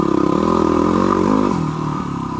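A 2008 Yamaha WR250R dual sport motorcycle rides along with a close, steady engine drone and a thumping pulse. It rises briefly, then eases off slightly, with no talk.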